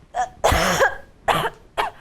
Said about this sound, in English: Why is she coughing so much?